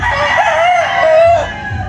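A young rooster, a stag, crows once, close and loud, a single drawn-out call lasting over a second that wavers in pitch and then cuts off.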